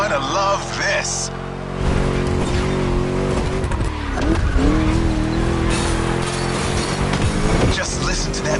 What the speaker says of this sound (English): Just listen to that V8 like a chunky, down-tuned guitar riff.